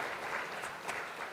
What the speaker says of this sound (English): Big round of applause to the good team there.